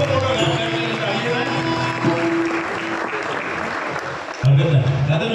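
Audience at the Malvani Award 2024 ceremony applauds loudly and steadily throughout, with music and voices mixed in underneath and a louder burst near the end.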